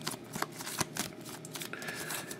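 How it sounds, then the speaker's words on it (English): A deck of trading cards is shuffled by hand during a card break, giving a quick series of soft riffling and snapping bursts, close and continuous with no talking. "what we'll do is we'll do a quick shuffle of my team deck here."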